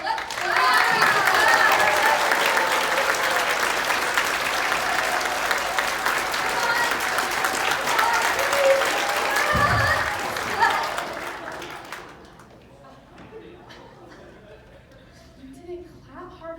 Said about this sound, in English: If you clap hard enough, Hansel will live. Let's clap!